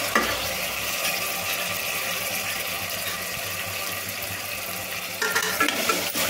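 Small tomato pieces for a potato kurma fry in a pan with a steady, loud broadband sizzle, with brief stirring bursts near the start and again toward the end; no talking.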